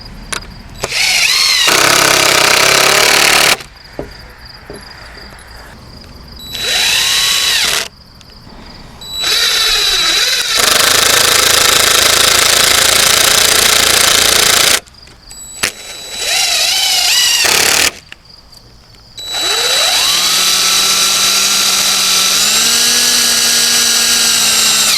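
Power drill driving fasteners and toenailing into wooden chicken tractor framing outdoors, in several loud bursts of whining motor speed that rises and falls, separated by short pauses.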